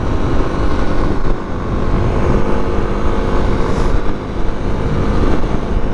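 Motorcycle engine, a first bike, ridden around town in fifth gear, a steady, loud, continuous drone with slight dips in intensity and no pauses.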